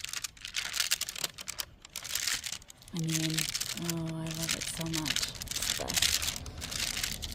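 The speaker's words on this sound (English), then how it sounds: "show you how this paper sounds once you have ink on it." Thin onion skin notebook paper covered in ink is handled and rustled, giving a steady crisp crinkling close by, while someone speaks briefly over it.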